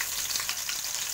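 Ginger and two whole bulbs of garlic sautéing in hot oil for a chicken curry, a brief, steady, dense sizzle heard up close with no other sounds.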